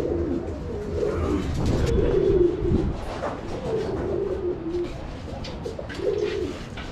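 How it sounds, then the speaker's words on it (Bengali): Free-flying Giribaz and racer pigeons on a rooftop pigeon farm coo repeatedly in low, rolling phrases, several birds close by over steady background noise, with no talking. "এই যে কিছু ছেড়ে দেওয়া কবুতর আছে আমার, কিছু গিরিবাজ আছে, কিছু রেসার আছে"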